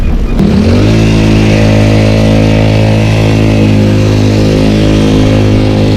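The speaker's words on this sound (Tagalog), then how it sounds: "Hirap na hirap yung motor." A motorcycle engine labours under heavy load, its steady low droning harmonics settling after a brief rise, loud and close throughout with no talk over it.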